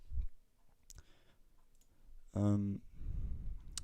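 A computer mouse clicks a download button, giving a few faint, brief clicks over quiet background, followed by a short tonal hum and low rumble.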